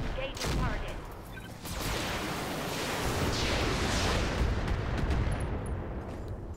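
Sustained automatic gunfire from the Roguepoint tactical video game, a dense continuous volley of shots that stays loud for several seconds, with faint game sounds behind it.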